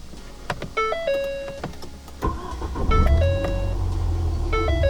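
A Ford Fiesta ST starting up, with a series of electronic chime tones sounding in short repeated sequences over the low hum of the engine turning on.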